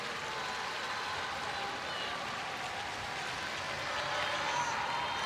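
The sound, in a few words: applause as Leicester player Hannah Kane is substituted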